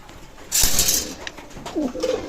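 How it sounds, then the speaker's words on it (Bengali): Teddy breed pigeons in a pigeon loft, a close burst of wing flutter followed by a few soft low throaty coos, with faint background noise. "এক জোড়া কবুতর আছে টেডি জেনারেশনের ডিমও পারছে এই কবুতর"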